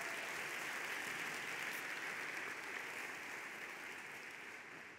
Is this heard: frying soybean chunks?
no